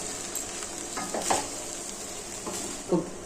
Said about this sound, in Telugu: అన్నీ వేసి కలిపేస్తానండి.